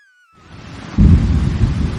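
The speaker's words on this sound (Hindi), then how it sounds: "तेज हवा चलती है और बिजली कड़कती है।" Thunder crashing in a cartoon storm scene with strong wind, a deep rumble that swells in quickly and then breaks into a loud, heavy roll.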